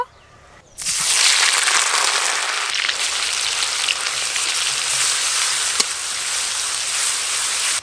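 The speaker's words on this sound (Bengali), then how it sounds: "পেঁয়াজ বাটা একটু ভালো করে ভাজা ভাজা করে নিয়েছি" Onion paste frying in hot oil for a cabbage and egg curry, a loud, steady sizzle that bursts in after a quiet moment and holds close and continuous to the end.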